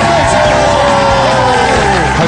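Studio audience on a Taiwanese TV game show cheering and whooping for the winning team, a loud continuous crowd roar with shouts and a prominent voice riding over the noise throughout.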